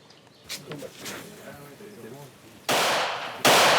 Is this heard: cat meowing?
no